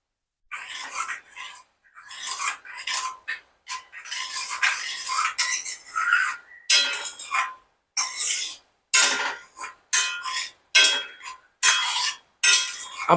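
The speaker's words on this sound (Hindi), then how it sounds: "इसे धीरे धीरे मिक्स करेंगे।" Dahi tikhari, a yogurt tempering, is stirred in a metal pot, with a spoon clinking and scraping against the sides in repeated close, bright strokes separated by short pauses, and no one talking.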